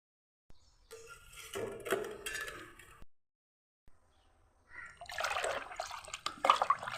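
Water poured into a vessel while mixing a homemade plant solution, two short bursts of splashing and trickling pouring, close and clear, separated by a brief quiet gap, with no talk over it.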